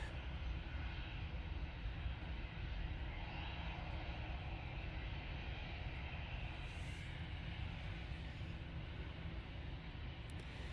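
A Lufthansa jet departing Manchester Airport for Frankfurt on a gusty day produces a steady, distant engine roar that holds throughout without pause.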